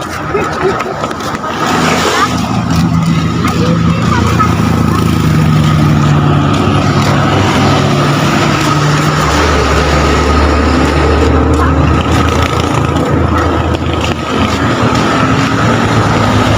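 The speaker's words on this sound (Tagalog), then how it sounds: "Ay, mga sasakyan." Steady traffic rumble of cars passing on the Antipolo zigzag highway at Barangay Dalig, a continuous loud roadside drone with engines swelling and fading throughout.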